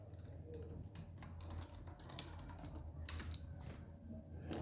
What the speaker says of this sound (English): Now, what you do, you just go ahead and type Visual Studio.